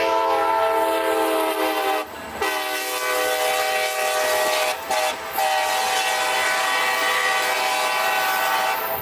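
Generic K5LA air horn from a model locomotive sound decoder, a loud sustained multi-chime blast held nearly continuously, briefly broken by short gaps, over a faint mechanical rumble.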